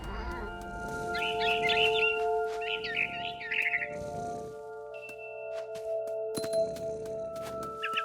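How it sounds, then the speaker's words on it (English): A barn swallow chirping outside a window in the game What Remains of Edith Finch, quick twittering bursts over soft ambient game music and hum. "Then I heard chirping outside my window. It was a barn swallow going back to her nest."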